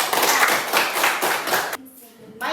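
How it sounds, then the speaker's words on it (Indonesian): Classroom students clapping together in a burst of quick, close applause that stops abruptly, followed by a brief quiet murmur of voices before clapping picks up again at the end. "Beri tepuk tangan."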